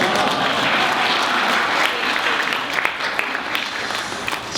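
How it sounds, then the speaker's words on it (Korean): An audience at a forum in Korea claps steadily throughout, a dense wash of applause that stays loud and even from start to finish. "지금 2단계에서 박수를 치시면은 나중에 굉장히 후회하실 겁니다"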